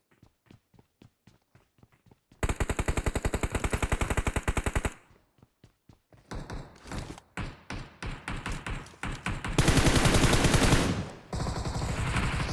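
Gunfire in a shooter video game: scattered single shots, then a long rapid automatic burst, more irregular shots and thumps, and a second loud sustained burst near the end, all close and without talk.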